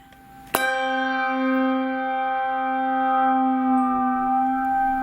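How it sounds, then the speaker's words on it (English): A bell is struck once and rings with a sustained, steady metallic tone that hangs on without fading through the rest of the clip, as it is lowered into water. "So here's the bell sound."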